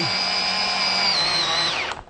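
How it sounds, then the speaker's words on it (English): A small 12-volt power drill runs at a steady high whine for about two seconds, close and loud, then winds down at the end. "there was a good indication of the power this little 12-volt drill has"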